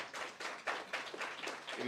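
An audience at the launch of the 3rd Kenya International Investment Conference 2023 claps in a quick, fairly even rhythm, the rounded hand claps close together and moderately loud in a large hall.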